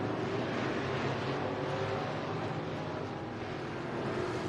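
Race cars roaring around the Thunder City Speedway oval during a heat race, a continuous distant engine drone with a broad crowd-and-track wash and no clear pass-bys.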